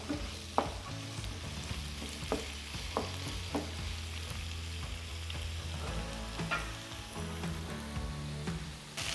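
Onions brown in a pan for slow-cooker lamb shanks, giving a quiet, steady sizzle with scattered crackles and pops, plus a low hum underneath throughout.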